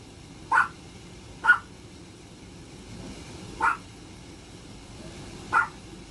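Four short, sharp barks from a small dog sound at uneven intervals from a moderate distance in a quiet kitchen while stew cooks, with only faint background noise between them.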